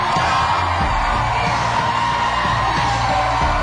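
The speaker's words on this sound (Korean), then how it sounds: "큰 박수로 보여주겠습니다" Audience in a talk-show studio cheering and whooping steadily throughout, a dense, loud crowd roar with scattered yells.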